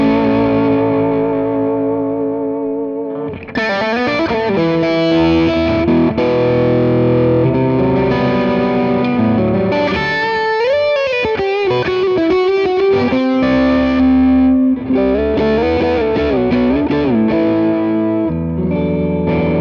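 Electric guitar played through a Kingsley ToneBaron pedal with the treble turned up gives a loud, distorted, bright tone, strummed chords and sliding lead phrases ringing steadily for about twenty seconds with no talking.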